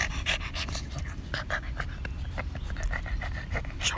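A brown and white Boston Terrier pants rapidly and steadily up close, with quick, even breaths throughout while outdoors on a soccer field.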